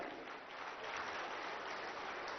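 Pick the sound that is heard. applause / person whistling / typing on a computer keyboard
applause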